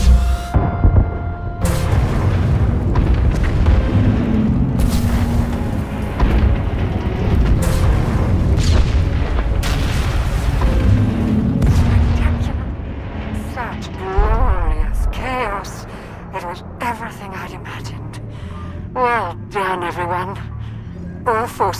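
Weapons fire and heavy explosions boom during a military assault on docks in Star Wars: The Old Republic, a long rolling barrage of deep blasts and rumbles, followed by sharper laser-like zaps, with voices speaking between them.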